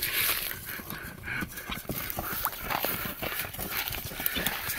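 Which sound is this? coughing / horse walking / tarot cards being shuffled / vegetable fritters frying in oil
horse walking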